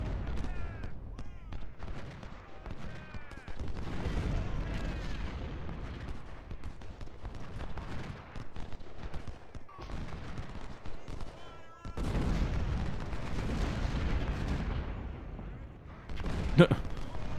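Artillery batteries and massed musket volleys roar across a Civil War battlefield at Chickamauga in the strategy game Ultimate General: Civil War, continuous booming cannon and crackling rifle fusillades with a sharp louder blast near the end, under occasional commentary.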